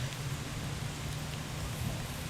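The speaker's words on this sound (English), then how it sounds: "It's raining on me more." Rain falls in a steady, even hiss with a soft low rumble beneath it, heard outdoors at low level for the whole stretch without any talking.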